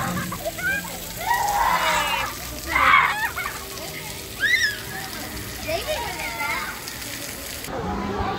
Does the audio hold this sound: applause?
no